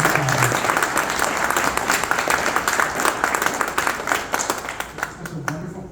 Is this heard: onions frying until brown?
no